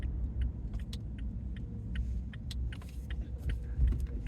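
A car pulls into a shop parking lot, its low engine rumble steady throughout, with faint light clicks and jingles over the top and no talking.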